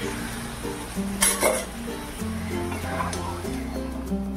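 A spoon stirs mung dal in a pressure cooker, giving a steady soft scraping and gentle frying sizzle with occasional utensil clinks against the metal pot, close and moderately loud over a faint background hum.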